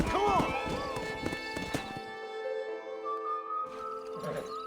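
Horse hooves clip-clopping in the Red Dead Redemption video game, a quick run of strikes early on that gives way to tonal game sounds, with voices talking over parts of it.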